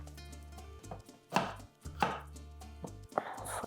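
Knife chopping green and red bell peppers on a cutting board, a few distinct sharp chops at an uneven pace, close and clear, no talking.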